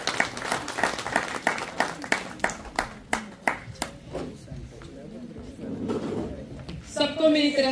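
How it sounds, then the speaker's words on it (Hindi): Scattered, uneven hand clapping from a small audience at an Indian Independence Day gathering in Paris, a few dozen sharp claps spread over several seconds before a voice and music take over. "जोरदार तालियां सोनिया के लिए"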